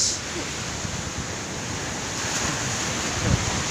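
Surf breaking on the wide sandy beach of Ujung Pulo, Bakongan, South Aceh: a steady, close roar of waves with heavy wind rumble buffeting the microphone throughout.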